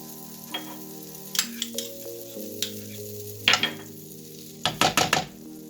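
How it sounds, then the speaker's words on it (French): 30 g of butter melting in a frying pan gives off a light sizzle, broken by sharp scrapes and clinks of a utensil against the pan, over a steady tonal background hum. "dans une poêle, on y met les 30 g de beurre, on fait fondre"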